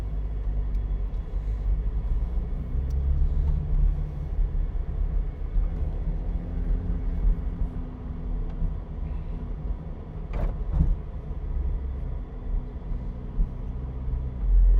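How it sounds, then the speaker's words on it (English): A RUF Rodeo, an off-road Porsche 911 on off-road tires, drives over rough ground with a continuous low engine and tire rumble, a few sharp knocks around the middle, and no voices. "We're taking the RUF Rodeo off-road."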